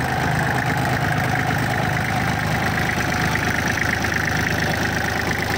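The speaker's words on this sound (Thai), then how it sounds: "คันนี้ติดแล้วนะครับเดี๋ยวเรามาดูสภาพของเครื่องหน่อยนะครับ" A Kubota tractor engine idles steadily up close, a loud, continuous diesel rumble with an even mechanical chatter and no speech.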